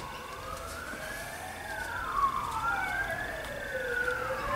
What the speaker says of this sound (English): that sounds like ambulance or fire.